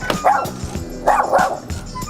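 A confrontational dog barks several times nearby, sharp yipping barks in two quick clusters, with no talk over them.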